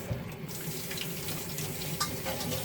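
Tap water runs steadily into a sink while raw duck meat is washed under it, a continuous close splashing stream with small shifts as the meat is moved.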